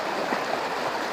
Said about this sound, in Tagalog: Andito po ako ngayon sa ilog ng City Horobsan, Barangay Bunulo, Javier.